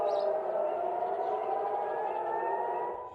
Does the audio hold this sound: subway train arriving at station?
no